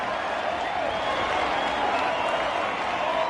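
A vocal rugby league crowd at a Titans versus Tigers match roars after a try, a dense, sustained wash of cheering and clapping that holds at a constant loud level.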